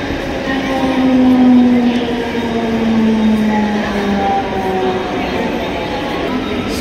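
A train pulls into a station with a steady rumble and drawn-out metallic squeals and tones, loud and close throughout, with some voices faintly mixed in.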